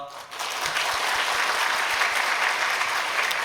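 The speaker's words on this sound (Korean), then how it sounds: "인사할 때 따뜻한 박수로 맞이하겠습니다." A church congregation at a Sunday service gives a warm round of applause. The clapping is steady and dense, filling the room at an even level from start to finish.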